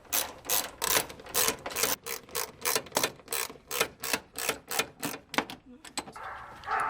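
A hand ratchet works fan cowl bolts loose on a 1987 Chevy S10, giving repeated rapid bursts of clicking in an even rhythm, loud and close, with short pauses between strokes.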